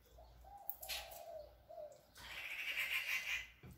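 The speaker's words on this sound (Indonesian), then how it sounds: "Wah, banyak burung di itu pohon kelengkeng ya" Several birds call from a longan tree, with short cooing and chirping notes early on, then a busier stretch of bright, high chirps at moderate distance, heard alone with no talk.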